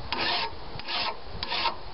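A hand file rasps along the edge of a lawnmower blade in three long strokes, each a dry, gritty scrape close by with short pauses between them and no voices.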